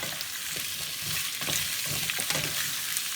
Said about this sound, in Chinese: 把切好的萝卜块呢就下到锅里，用中火，我们就像这样翻炒